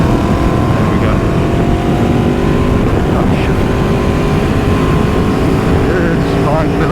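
An Aprilia RSV4 Factory Final Edition motorcycle rides on a race track, its engine a loud, continuous, close roar with shifting revs and wind rush throughout, with a voice faintly under it.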